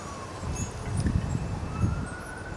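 Emergency vehicle sirens wail outdoors at a distance, a faint rising and falling tone sitting over low traffic rumble throughout.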